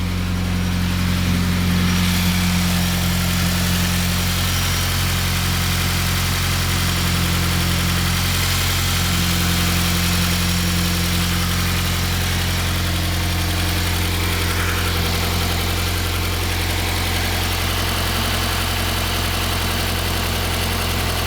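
A 2015 Subaru WRX with a newly installed Grimmspeed J-pipe idles steadily and close by, a low, even rumble with a faint mechanical hum, holding constant throughout with no voices.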